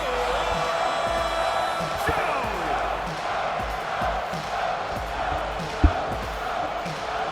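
A wrestling arena crowd in a video game ECW TV show, a steady roar of cheering and murmuring throughout, with one sharp thud near the end, no clear speech.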